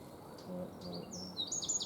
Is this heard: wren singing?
yes